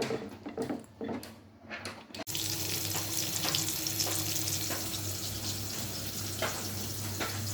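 Spice paste for a fish-head and potato murighonto sizzles and crackles in a pan, starting after a couple of seconds of quieter handling noises and then holding a steady, close frying hiss with occasional stirring scrapes.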